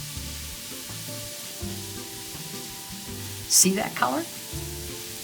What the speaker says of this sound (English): Now cook for a few minutes until the tofu is browned and heated through.